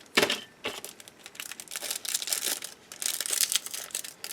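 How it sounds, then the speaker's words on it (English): Scissors snip and crinkle through plastic packaging holding small soft reline brushes for a dental chairside reline, giving a run of close, crisp crackling cuts and rustles with no talking. "take a pair of scissors and open so that way I don't bend them"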